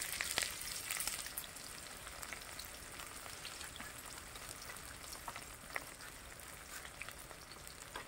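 Chopped onion frying in a pan for a cauliflower-stalk fry, giving a soft, steady sizzle with scattered crackles and pops, fairly quiet and close, no voices.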